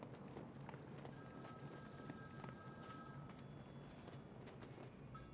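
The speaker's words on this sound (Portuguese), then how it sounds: "deixa eu atender o telefone" Telephone ringing in the video game Batman Arkham City, a repeated electronic ring over a steady background wash of game ambience, with a few light footstep-like taps.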